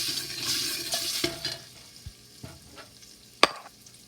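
Ingredients being stirred and fried in a pan while cooking daal makhani, with soft sizzling and scraping strokes, a few knocks of the utensil and one sharp clack near the end, with no talk.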